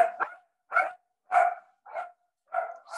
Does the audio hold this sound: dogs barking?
yes